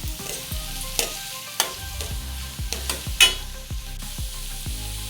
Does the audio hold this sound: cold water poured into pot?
no